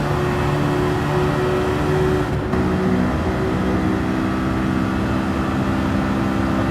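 Honda S2000 engine in Gran Turismo 7 droning steadily at high revs during a Grand Valley Highway time trial, with a brief dip around an upshift to fifth before the tone settles and carries on, loud and continuous.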